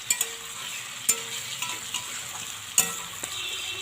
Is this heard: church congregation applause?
no